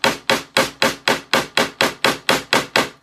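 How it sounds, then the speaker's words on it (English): A tiny, lightweight pink hammer taps wooden craft letters in eleven sharp, evenly spaced knocks, each close and crisp with a quick decay. "I feel like this tiny little pink hammer is perfect for me because it's not super heavy."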